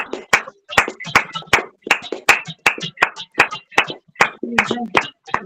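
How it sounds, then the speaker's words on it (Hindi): A church audience claps after a sermon in a steady rhythmic beat, with loud, sharp hand claps repeating evenly at close range. "जोरदार तालियां बजाते हैं।"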